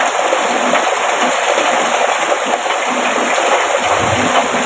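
Heavy rain pours steadily in a dense, loud hiss with no break, close by and alone, with no voices over it.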